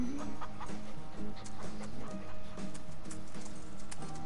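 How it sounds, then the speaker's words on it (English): Chickens clucking in the Farm Together video game, a steady busy layer of soft fowl clucks and scattered calls over constant game background sound, no talking. "I'm feeding your chickens."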